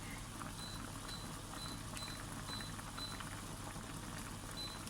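A sauce for a shepherd's pie simmering in a covered pan on the hob, a steady soft bubbling and fizzing with faint ticking pops, quiet and continuous.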